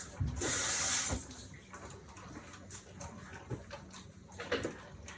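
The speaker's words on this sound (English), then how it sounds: "Rinse my hand off." Hands are rinsed under a running kitchen tap while a tuna noodle casserole is prepared: a short loud burst of splashing water, then quieter handling clatter and faint kitchen noises.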